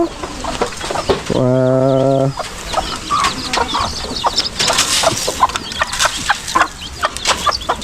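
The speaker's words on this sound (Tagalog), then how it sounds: "Ito ang pinapakain ko muna sa manok" Chickens cluck and peck around nearby, with one long drawn-out squawk early on, then scattered short clucks and scratching sounds.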